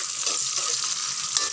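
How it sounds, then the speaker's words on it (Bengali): Half a cup of chopped onion fries in a pan, a dense continuous sizzle with light stirring scrapes, close and steady, with no talking. "এখন পেঁয়াজ কুচিগুলো ভাজা হয়ে গেলে"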